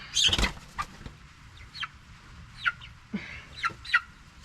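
Cornish Cross meat chickens out on grass pasture give a series of short, close clucks and chirps, spaced irregularly, with a louder burst of calls at the start and soft wing flutters.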